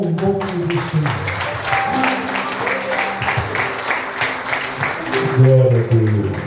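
A church congregation applauds during an evening worship service, with clapping spread evenly through the room, overlaid by a voice and sustained tonal sound, swelling slightly louder near the end.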